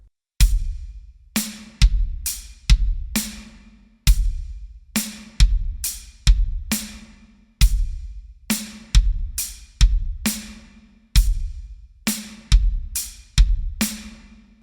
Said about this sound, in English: the groove slowly sounds like this.